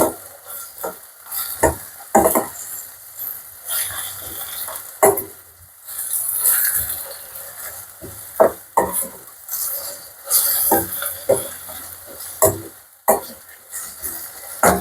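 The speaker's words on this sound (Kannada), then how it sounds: "ಇದು ಸ್ವಲ್ಪ ಹೊತ್ತು ಒಂಚೂರು ಫ್ರೈ ಆಗಲಿ." Green chilli, ginger, garlic and curry leaves fry in a pan for a tomato chutney, a close crackling sizzle broken by repeated scraping stirs and spatula knocks in an irregular rhythm, without talk.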